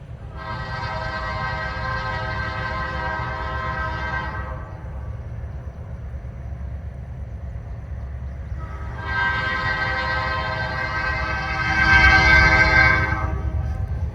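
A Kiamichi Railroad SD40-2 locomotive sounds its horn in two long blasts separated by a pause, loud and close, with a low engine rumble underneath and a swelling roar near the second blast.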